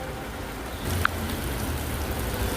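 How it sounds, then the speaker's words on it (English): Steady outdoor rain falling as a dense, even hiss throughout, with a single faint tap or drip standing out near the middle and no voices. "never mind the rain because it's raining right now"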